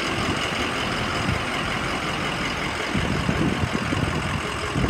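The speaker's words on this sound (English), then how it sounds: "This bus cranked right up." Engine of a 2006 Ford E-450 Blue Bird handi bus idling with a steady, rough rumble, heard up close and alone for the whole stretch.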